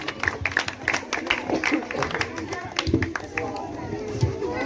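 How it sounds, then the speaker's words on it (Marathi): An audience claps and cheers for the winners of a burger-eating challenge at a tea stall event, the applause loud and close and mixed with a crowd's hubbub, while people talk over it. "एकदा टाळ्या वाजवा यांच्यासाठी"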